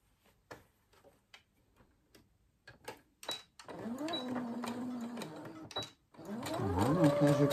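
Domestic sewing machine stitching around the edge of a children's fabric drawing book, preceded by scattered clicks and handling taps, then two steady whirring runs broken by a short pause, close and fairly quiet.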